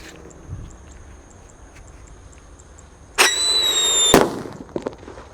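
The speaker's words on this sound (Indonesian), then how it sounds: "Lanjut di sini ada mercon black buster." A black buster firecracker set off in a hole in the ground bursts with a sharp crack, then a loud sustained crackling and whistling for about a second before a final pop, under a quiet outdoor background.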